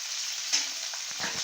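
Jackfruit pieces frying in oil over a high flame for a jackfruit and prawn curry; a soft, steady sizzle with a brief louder spit and a few light stirring knocks near the end.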